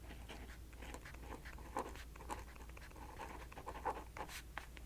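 A pen writes on paper up close, making light scratchy strokes in short bursts separated by brief gaps. The sound is soft and quiet, with no talking over it.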